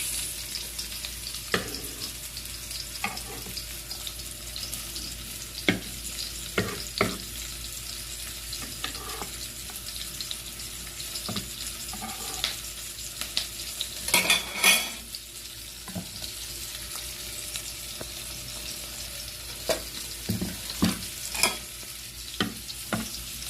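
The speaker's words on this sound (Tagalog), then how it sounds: "Konting-konting gisa lang. Sunod na natin ang kamatis." Tomatoes sauté in a pan with a soft, continuous sizzle, broken by scattered spoon scrapes and knocks against the pan across the stretch, no voices over it.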